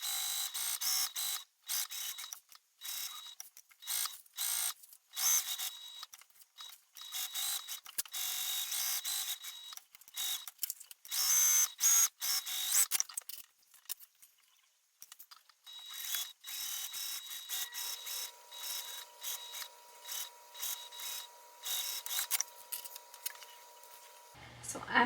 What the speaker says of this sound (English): just get started sewing right away